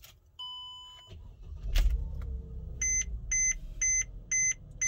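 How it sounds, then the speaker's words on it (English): Cycling the ignition on a Mercedes-Benz GLK350 brings a brief electronic tone, a short motor whir, then a series of five evenly spaced dashboard chimes, quiet and close. "All right, so I'm gonna cycle the ignition."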